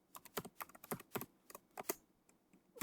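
Quick keystrokes on a computer keyboard while entering a git commit command, an irregular run of close, crisp clicks with short pauses, fairly quiet, no voices.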